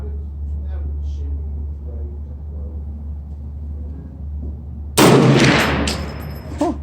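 A single loud rifle shot from a 300 Blackout or 450 Bushmaster at an outdoor range, striking sharply after a stretch of low idle rumble and ringing off over the following second.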